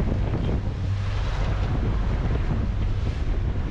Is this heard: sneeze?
no